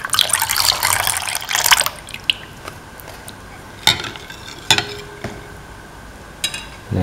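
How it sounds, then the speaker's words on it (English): Milk pours in a steady, splashy stream into semolina batter for about two seconds, followed by a few scattered drips and light clinks. "around 200 ml of milk."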